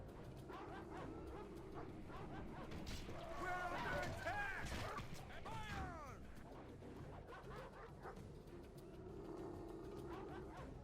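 War dogs in a Total War Rome Remastered battle bark and yelp in a scattered cluster through the middle, mixed into a busy din of battle noise under a voice.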